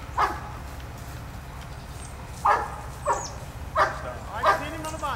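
A police K9 training dog barks and yips in short sharp bursts, about five spaced barks over a steady low background hum, with a handler shouting commands nearby.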